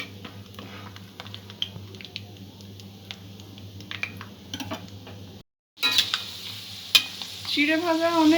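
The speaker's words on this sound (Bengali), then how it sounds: "বাদামটাও আমি ভেজে নেব।" Peanuts fry in a pan for chira bhaja, a light sizzle under scattered clinks and scrapes of a utensil stirring against the metal. After a brief gap the frying returns louder and busier.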